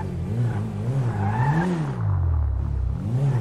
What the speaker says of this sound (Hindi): वाओ गाड़ी का आवाज चेक करो गाइस, कितना खूंखार आवाज है गाड़ी का।